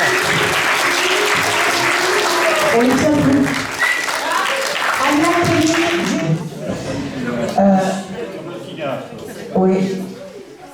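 An audience at a school event applauds, with a dense patter of clapping that gradually thins and fades, while people talk over it.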